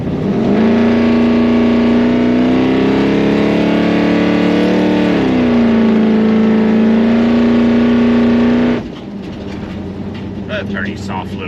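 A 383 stroker V8 in a bagged Squarebody truck idling loud and close with a steady droning hum that dips slightly in pitch midway, then cuts to a lower, rougher rumble near the end.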